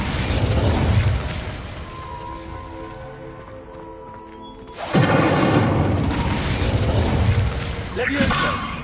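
A fire spell blast in the Hogwarts Legacy video game: a loud, broad burst around the middle of the clip, with rumbling effects and game clamour around it and a voice shouting.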